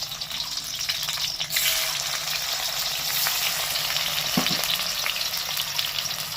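Two medium tomatoes sizzle loudly in fully heated mustard oil, a steady close crackle and hiss with a brief stirring scrape partway through.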